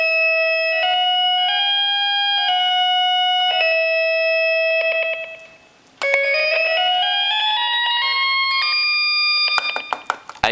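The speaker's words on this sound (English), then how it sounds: "when you turn all these switches on, kind of sounds like a church organ" A Dubreq Stylophone Gen X-1 with all its switches on plays a bright, organ-like run of sustained notes, stepping up a scale with a brief pause midway, loud and close with no talking.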